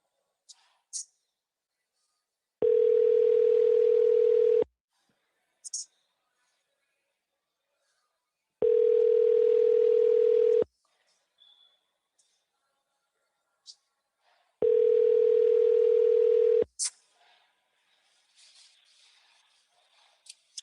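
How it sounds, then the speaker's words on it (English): An outgoing phone call rings three times: steady, evenly spaced electronic tones of about two seconds each, separated by silent gaps, with faint clicks between. "Phone ringing."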